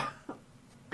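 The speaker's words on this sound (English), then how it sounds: "I'm gonna sit here and cough." A single short, rough cough from a man with chest congestion, heard close and fairly quiet in an indoor podcast setting, followed by the start of another cough.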